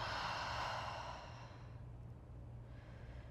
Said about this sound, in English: Just a deep breath in and a long breath out.